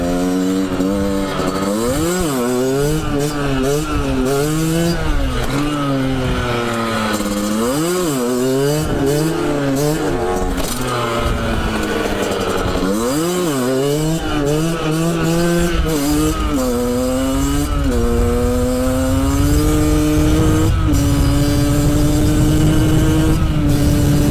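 A motorcycle with a loud, derestricted Turbokit aftermarket exhaust rides past and away, rising and falling through gears with a raspy, buzzing engine note, nearby and continuous.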